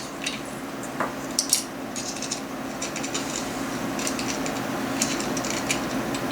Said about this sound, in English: I can use a socket wrench, a socket to tighten that up